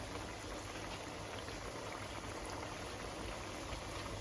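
Meat sizzles and crackles steadily in a hot frying pan, a dense, even hiss that stays quiet and continuous without talk.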